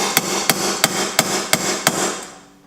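A hammer taps metal during a budget turbo LS engine build, seven sharp, evenly spaced strikes ringing close and loud over a workshop background before stopping, no voices.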